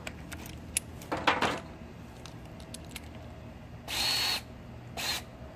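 Short bursts of a Stanley 20V cordless hammer drill whir in the foreground, two longer runs near the end, with scattered clicks and taps between them.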